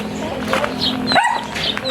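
A dog barks a few times close by, short sharp yips over a faint background hum.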